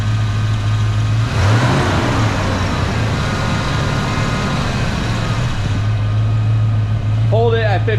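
A 1990 Ford Mustang engine idles steadily at about 1500 rpm during a coolant change with the heater on, a loud constant hum and drone that holds even throughout.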